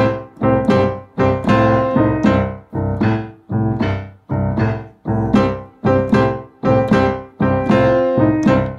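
Piano playing a boogie woogie riff, a bouncy rhythmic pattern of repeated chord stabs and walking bass, about a dozen punchy phrases played clearly and close with no talking.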